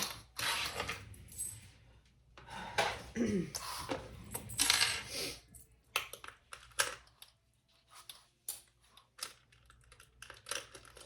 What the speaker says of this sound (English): I'm going to put my zipper pulls on.